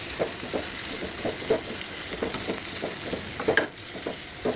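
Eggplant and tomato lightly frying in a pan, a steady soft sizzle broken by repeated scraping stirs at a regular pace, close and moderately loud with no voices.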